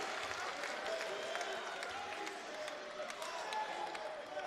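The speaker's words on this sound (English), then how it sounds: "It's a vocal crowd." An engaged, vocal arena crowd at an NCAA men's college basketball game between Quincy and SIUE sends up a steady, dense roar of cheering and clapping that holds evenly for several seconds.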